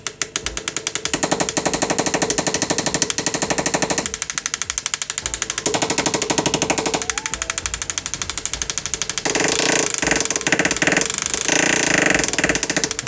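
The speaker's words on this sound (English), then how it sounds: "So now I've got the hammer tool attachment attached to my forward motor." A jewelry hammer handpiece attachment driven by a forward motor, used while setting a stone in a ring, rattles out a rapid, loud mechanical buzz of dense repeated strikes that shifts in pitch and intensity as the pressure changes.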